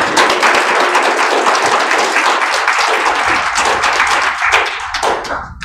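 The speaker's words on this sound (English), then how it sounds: "let's go ahead and give him a round of applause again" An audience bursts into loud, close applause after a lecture on digital archaeology and the biblical world, the clapping dense and sustained, then thinning out near the end as a voice starts up.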